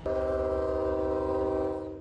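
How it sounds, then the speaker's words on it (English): A single long, loud Union Pacific train horn blast at a railroad crossing, holding a steady chord for about two seconds, then fading slightly at the end. "that repetitious train horn can be a little irritating, it's to alert drivers, bikers, and walkers to stop"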